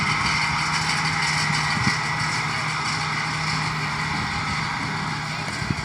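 Farm tractor running steadily while picking up and baling hay in a field, a continuous loud engine drone with a constant low hum, no talking.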